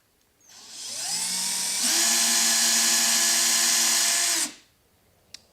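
A TRIM-IT II case trimmer trimming a cartridge case spins up into a steady, loud high-pitched whine, changes pitch as the cut engages, holds for a few seconds, then winds down to silence, with one small click at the end.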